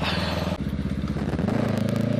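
Kawasaki Ninja 650cc motorcycle riding on an evening road in Pasuruan, a steady close engine drone with a brief dip and then a throatier, louder rise as it pulls away, no talk.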